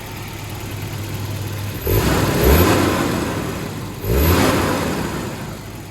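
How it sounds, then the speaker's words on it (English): An overhauled Volvo redblock four-cylinder engine runs steadily nearby, with two sharp throttle blips that rise in pitch and fall back to a smooth idle, no voices over it. "That's one happy motor right there."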